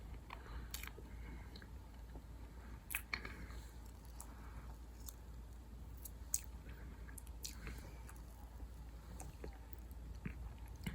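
Close, quiet chewing of a mouthful of cake icing: soft, moist bites and squishy mastication repeating over a faint background hum.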